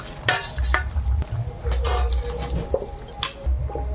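Fried fish being added to a simmering pot and stirred in a home kitchen, with intermittent scraping and clinking of a utensil against the pot amid soft sizzling, close and uneven in rhythm.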